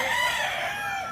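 A turkey calls out alone just before slaughter during a post-fiesta feast in the rural province, a strained, wavering fowl cry that carries loud and continuous throughout.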